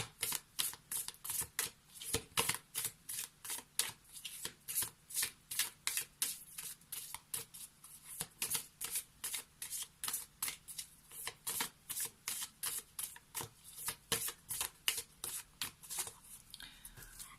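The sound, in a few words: shuffling tarot cards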